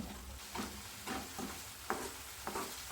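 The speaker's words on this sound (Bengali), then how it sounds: "এবার এই সমস্ত মশলা খুব ভালোভাবে কষিয়ে নেব" A spatula stirs ground coriander and cumin masala as it fries in a pan for alur dum. Soft, rhythmic scraping strokes come about every half second over a faint, steady sizzle, with no voices.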